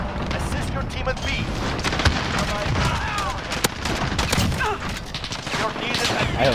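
Frantic Call of Duty Modern Warfare multiplayer firefight with Desert Eagle pistol shots mixed among dense, loud gunfire and explosions, sharp cracks bursting continuously over a noisy battle bed while someone talks over it.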